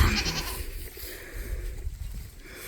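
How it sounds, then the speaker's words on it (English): A goat bleats in a barnyard, one wavering call close by at the start, then faint farmyard sounds continue. "Hi, baby goat."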